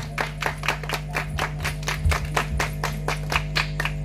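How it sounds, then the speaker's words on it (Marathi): Audience at a village cultural event in Konkan claps in a steady, rhythmic beat, sharp hand claps repeating about every third of a second over a constant low hum. "टाळ्या वाजवा"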